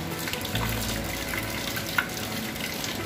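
Rainwater pours down from a roof gutter into a collection container as a steady, close, splashing rush of water, with no talk over it.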